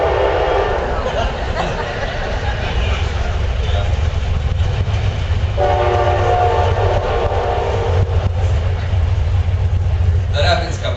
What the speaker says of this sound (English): I'm gonna have to compete with the train